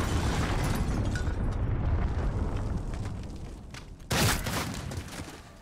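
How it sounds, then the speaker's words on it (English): Cruise missile explosion in the Modern Warfare video game: a loud, sustained rumbling blast roars for several seconds and fades, then a second sharp burst erupts near the end. "Enemy cruise missile incoming."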